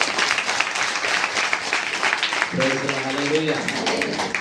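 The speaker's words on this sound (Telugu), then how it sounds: "నమ్మిన వారందరూ కూడా చప్పట్లు కొట్టండి" A church congregation at a Christmas service claps together, a dense steady wash of applause that partway through is overlaid by a voice speaking over it.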